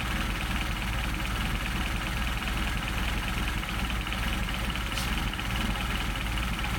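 A Mercedes 190SL engine with Solex carburetors idles at low RPM, a steady, even rumble close by that holds constant throughout.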